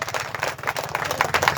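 A church congregation claps and cheers in praise of Jesus during a worship service. The clapping comes in quick rhythmic bursts over a low steady hum, with voices rising within it.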